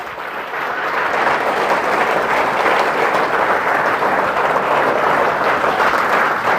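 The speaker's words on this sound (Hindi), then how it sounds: "एक बार जोरदार ताली ठोको, बात जोरदार ताली ठोको।" Sustained audience applause at a Hindi motivational seminar, a dense, steady roar of many hands clapping that swells in after a moment and holds loud and even throughout, with no talking.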